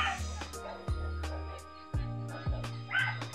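A dog barks repeatedly in short, sharp yips at a steady pace, fairly close, over a low background hum of wind in a rural province during a power outage.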